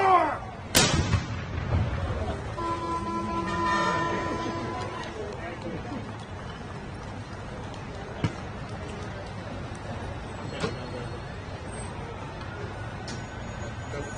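A Royal Artillery reenactment unit fires a ceremonial cannon salute at a Memorial Day ceremony: one loud, sharp boom near the start, then a long fading rumble over crowd murmur, distant voices and a few faint pops.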